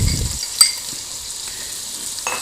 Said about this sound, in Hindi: अब हमने ओनियन काट के रखे हुए हैं डाइस, और ये अब हम ओनियन भी इसके अंदर डालेंगे